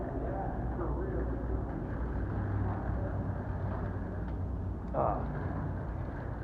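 A low, continuous rumble echoes inside a tunnel as a truck rolls through, filling the space with a steady drone that stays heavy and constant, with a brief brighter bump near the end.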